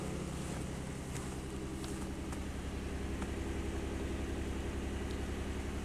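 A car engine idles roughly after a cold start during a winter snowstorm, a steady low drone with some wind noise, running continuously and fairly close.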